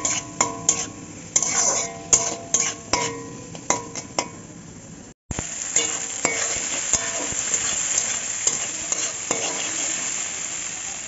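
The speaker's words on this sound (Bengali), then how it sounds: "এবার আস্তে আস্তে ভেজে সুন্দর করে একটা ব্রেস্তা বানিয়ে নেব।" Sliced onions with salt and turmeric are stir-fried toward brown birista in a pan, with a constant close sizzle under repeated metal spatula clinks and scrapes, a brief gap midway, and no talk.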